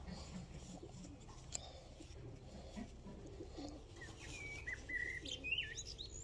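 Young New Zealand grizzle pigeons in a loft give soft coos and light chirps against a low steady background hum, fairly faint, with a few brief higher calls near the end.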